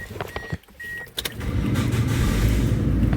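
Honda hybrid car with a robotized manual gearbox: electrical clicks and whirs from the cabin, then the engine cranks and settles into a steady low running hum that continues to the end, heard from inside the car.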